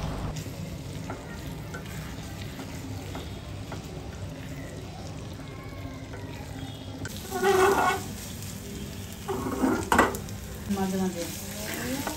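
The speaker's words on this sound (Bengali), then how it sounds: "পেঁয়াজ রসুন দিয়ে এবার ভালো করে সরিষাটাকে ভেজে নিতে হবে" Mustard fries with onion and garlic in a pan, a steady soft sizzle broken by brief stirring scrapes, with a short spoken phrase.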